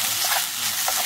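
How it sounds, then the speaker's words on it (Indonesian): Nasi goreng fried rice stir-fried in a pan on a camp stove on a mountain hike, with a steady sizzle and a few scraping stirs of the spatula. "Kita masak nasi goreng."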